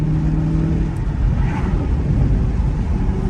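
A Chevrolet Camaro SS with a ten-speed gearbox rumbles steadily from inside the cabin while cruising, a loud continuous low engine drone with a faint brief burble near the middle rather than distinct sharp exhaust pops.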